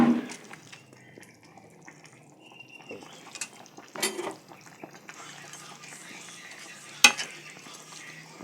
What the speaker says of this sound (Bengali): এইবার আমি মাছগুলো দিয়ে দেবো।